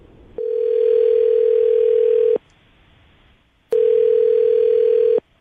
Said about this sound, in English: I'm going to dial your fiance's phone number right now